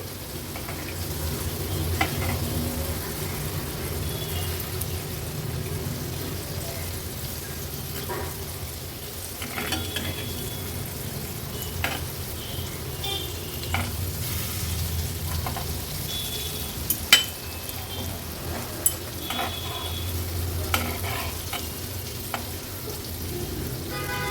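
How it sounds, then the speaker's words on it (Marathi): Paneer pieces coated in maida fry in hot oil with a steady, soft crackling sizzle throughout, with a few sharper pops and light clinks now and then, and no talking. "थोडासा मैदा लावून आपण हे तळून घेतले आहे"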